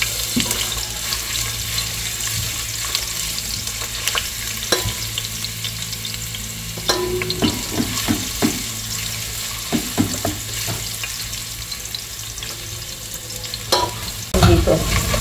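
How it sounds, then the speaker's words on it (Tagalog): Ginger sizzles steadily while sautéing in a hot pan, with stirring clinks and scrapes now and then over the continuous frying hiss. "gigisa muna natin yung ating ginger"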